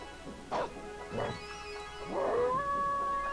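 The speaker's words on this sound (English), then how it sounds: "I thought there was a designated bark button" A dog in the game Jet Force Gemini gives a few quiet yips and barks, the last one stretching into a rising howl, set apart by short gaps over a faint low hum.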